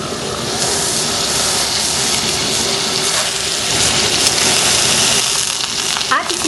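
Morcon, a Filipino stuffed meat roll, searing in hot oil in a big pan, giving a steady broad sizzle and hiss that runs unbroken for several seconds with no talk over it.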